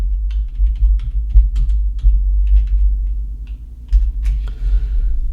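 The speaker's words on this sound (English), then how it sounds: "And then we'll just type in here breaking news." Close keystrokes on a computer keyboard, a quick irregular run of light clicks over a steady low hum, with no voices.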